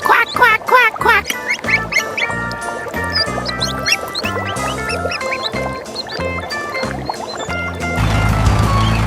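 Cartoon duck quacking in a rapid series of nasal honks against a busy musical backing with other squeaks and animal sounds, ending in a louder low-pitched rumble.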